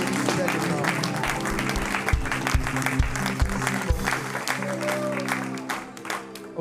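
A church congregation claps steadily along with live worship music and singing, a dense rhythmic patter of many hands that carries on throughout before easing slightly near the end.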